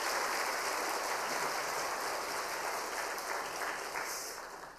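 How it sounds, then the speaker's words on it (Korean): A church congregation applauds the pastor at a Wednesday worship service, a dense, steady wash of many hands clapping together for about five seconds, moderately loud with no talking over it. "우리 강신원 목사님께 다시 한번 감사의 박수 드리도록 하겠습니다."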